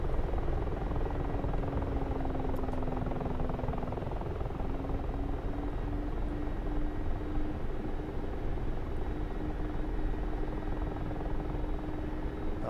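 A Mi-24 Hind helicopter in a flight simulator video game drones steadily throughout, its rotor and engine a constant dense roar with a faint steady whine riding above it.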